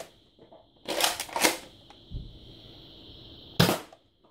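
A modded Nerf Recon Mk2 blaster fires darts: a couple of sharp snapping clacks close together, a soft thud, then another crisp snap after a pause, heard up close over a faint hum.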